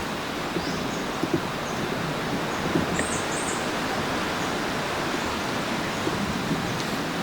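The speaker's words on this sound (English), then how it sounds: "It is very windy, as you can see and hear." Steady wind roars continuously near Habarana lake in Sri Lanka, a broad rushing noise with slight gusts and no voices.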